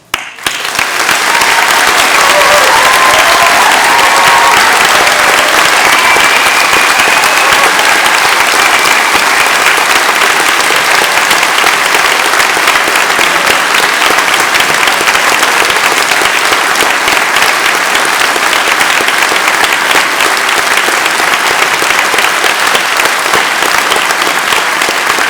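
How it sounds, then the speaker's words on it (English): A large audience at a Torquay degree ceremony gives graduates a long, loud, sustained round of applause, dense clapping that holds at full strength throughout. "for everyone here to join me in giving you the biggest round of applause for your achievement here today"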